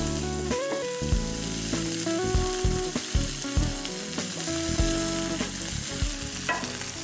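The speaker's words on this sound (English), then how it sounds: "And those start to sizzle, add the onion." Onion sizzles hard in hot oil with cumin and mustard seeds in a pan, a dense, continuous frying hiss with stirring clatter throughout, close and loud with no talking.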